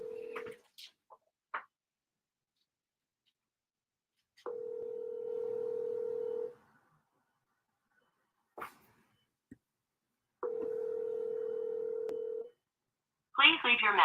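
Telephone dialing a call on speakerphone: a few short tone beeps, then two long ringback tones separated by a pause, with brief clicks and a voice starting at the end.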